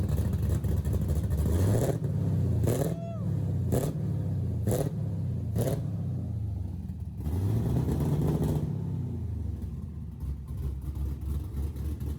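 An LS-swapped Nissan 350Z engine idles with a low rumble, then revs up repeatedly in several rising and falling bursts, loud and close.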